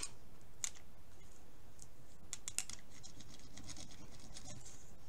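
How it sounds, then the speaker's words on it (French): Paper rustles and crisps as an envelope is creased shut with a bone folder, soft close scraping strokes and light taps in a quiet room. "Je prends donc mon plioir et on va plier comme ça pour fermer, puisque je veux fermer mon enveloppe."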